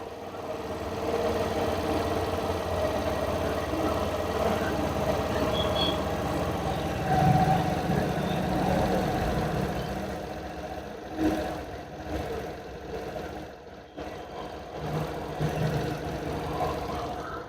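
A Suzuki Access BS6 scooter engine idles steadily with a low, continuous mechanical hum and slight knocking, holding fairly even throughout with a few small bumps in level near the end.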